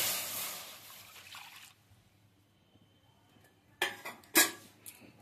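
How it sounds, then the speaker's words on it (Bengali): Milk is poured into a kadai on a gas stove, giving a steady splashing pour for about a second and a half, then near quiet before a couple of sharp metallic clinks from the pan. "সেই দুধটা আমি কড়াইয়ের মধ্যে ঢেলে দিচ্ছি।"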